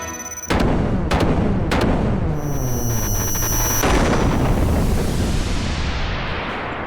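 Cannon fire in the Xenogears video game: a sudden loud blast followed by repeated booming impacts and a long rumbling, ringing tail, with no speech.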